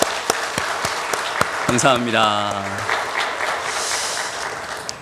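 A Korean church congregation applauds at a Thanksgiving Sunday service, with several sharp, spaced claps at first, then a voice speaks briefly over a soft, diffuse patter of clapping that continues behind him.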